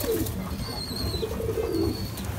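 Madrasi pigeons cooing in a loft among several birds, a low steady murmur of soft coos with faint higher chirps above it, close and continuous with no talk.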